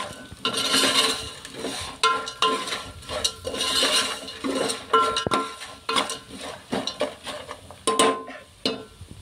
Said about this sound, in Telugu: ఉప్పు వేసుకొని బాగా కలుపుకోవాలి